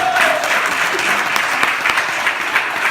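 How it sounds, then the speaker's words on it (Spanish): A church congregation claps together in sustained, dense applause, loud and steady throughout, with a few faint voices underneath. "Den un aplauso a Dios"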